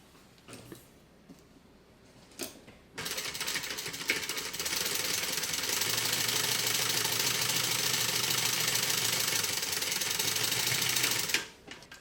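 A sewing machine stitches a slip pocket onto a backpack, starting after a few short taps and running steadily and loud for about eight seconds before stopping abruptly.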